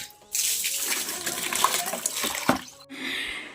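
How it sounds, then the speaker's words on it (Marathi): Water gushes from a tap into a container outdoors in a village garden, a close, continuous pouring rush with small splashy fluctuations that stops abruptly near the end. "आणि इकडे आता पाणी पण चाललं आहे भरायचं."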